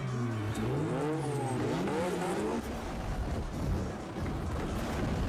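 Car engines in the Street Racing Syndicate video game rev up and down in repeated rising and falling sweeps, then give way to a loud, rough rush of engine and road noise.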